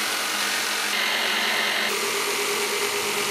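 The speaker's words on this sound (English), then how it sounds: "cut them with the jigsaw" Old metal scraps being cut with a jigsaw for grill parts produce a steady, loud, close buzzing and rasping drone that holds unbroken throughout, with a brief brighter surge in the middle.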